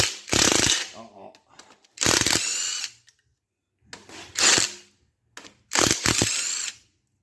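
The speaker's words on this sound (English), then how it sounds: "Now I'm going to see if I can get these manifolds off." Four bursts of rapid, loud ratcheting from a ratchet wrench turning exhaust manifold bolts on a Ford Windsor 221 or 302 V8 engine, with short pauses and a few close clicks between them.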